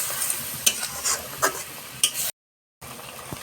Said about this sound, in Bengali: আমার মাছের তরকারিটা ফুটে গেছে